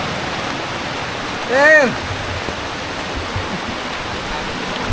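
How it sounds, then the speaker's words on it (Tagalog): Heavy rain pours steadily as a broad, constant wash of noise through the whole stretch, with a brief voice calling out partway through. "Lakas ng ulan."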